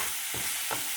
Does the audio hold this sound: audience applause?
no